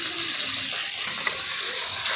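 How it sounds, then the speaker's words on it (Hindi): Water is poured into masala in a pan while rohu fish fries on a tawa, a steady loud splashing hiss that blends with sizzling throughout. "जो भी मसाला है वही मसाला में थोड़ा सा पानी डाल देते हैं"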